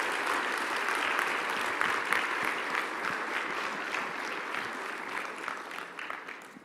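Sustained round of audience applause at the closing session of a scientific meeting, even and full throughout before slowly thinning toward the end.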